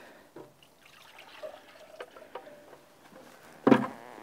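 Plain water dumped out of a large measuring cup used for tank sprayer calibration, a light trickle and dribble that ends in a brief louder splash, with no voices.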